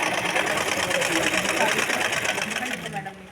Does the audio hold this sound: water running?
no